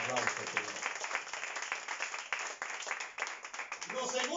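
A church congregation claps during a service, a moderate spread of hand claps running continuously at modest loudness, with a voice talking alongside.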